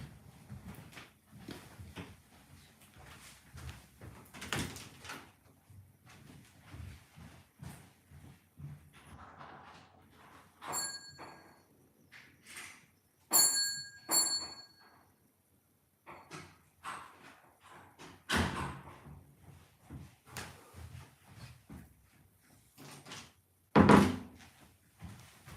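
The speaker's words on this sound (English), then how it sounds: "I'm going to go and unlock the door very quickly" Someone unlocks and opens a front door indoors: sharp metallic clicks of a key and latch, then thuds and knocks from the door, scattered between quiet pauses.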